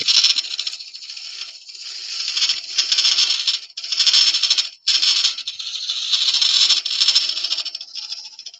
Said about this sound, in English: sounds a bit rattly, guys, because the tool's overhanging the tool rest a little bit there